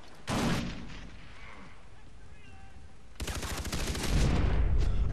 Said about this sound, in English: No, we should have won that gun battle.